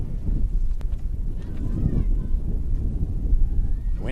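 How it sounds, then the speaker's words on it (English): Strong wind gusts buffet the microphone on the sidelines of an outdoor women's college soccer championship match, a loud continuous rumble throughout, with a commentator speaking over it. "Massive gust of wind in our faces just as I say that."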